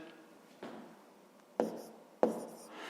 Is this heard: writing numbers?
yes